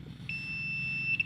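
Continuity buzzer of an analog AVO multimeter sounding as the probes test an unbroken wire, a single steady high-pitched beep lasting about a second over a faint background hum.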